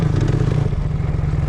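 Motorcycle engine running steadily while riding along a village road, a close, continuous low drone with a clattering mechanical texture and no talk.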